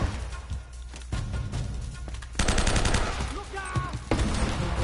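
Dense bursts of automatic gunfire and single shots crackle loudly and continuously in a firefight from the Uncharted video game, with the heaviest volleys in the second half.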